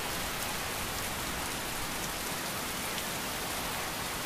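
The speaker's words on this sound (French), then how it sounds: "Oh non il pleut toujours." Steady rain pours down in the Skyrim game world, a dense, even hiss with no break across the whole stretch and no voices over it.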